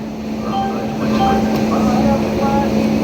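Padmavathi Superfast Express, now running with new LHB coaches, rolls along in a steady loud rumble with a constant hum, heard from inside the train, with faint voices in the background.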